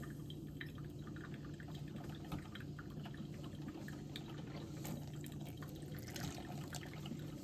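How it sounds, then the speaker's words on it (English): Room temperature distilled water poured for a sourdough dough made with all-purpose flour, a soft steady trickle and splash heard up close and fairly quiet, with no talking. "Room temperature distilled water."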